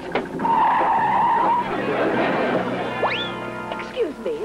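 Cartoon car braking hard, a loud sustained tire screech followed by springy, bouncing cartoon effects and a short voice near the end.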